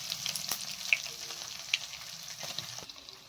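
Patra, leaf rolls, frying in a pan with asafoetida and curry leaves, giving a steady close sizzle with a few sharp pops and crackles. No one talks.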